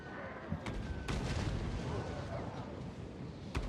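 Hand gunners firing in the Total War: Warhammer 3 video game, a dense, continuous crackle of gunfire and booming shots under the battle noise, with a few sharper reports standing out.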